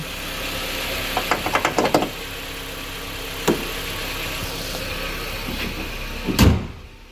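A Jeep Compass idles in a garage, a steady engine rumble broken by a quick run of knocks and clunks and a louder thud near the end as it is moved, with no one talking.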